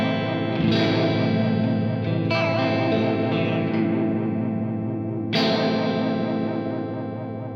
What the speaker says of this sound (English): flicking the small switch from the A position to the B position puts the pedal in Doppler mode, and this is the sound with the current settings